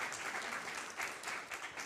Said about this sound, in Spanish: Eso es, un gran aplauso.